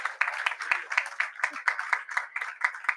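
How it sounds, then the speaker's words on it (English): Applause from a conference audience, fairly light and sounding like a small group, with claps landing in a quick, regular rhythm for the whole span. "Please give a huge round of applause."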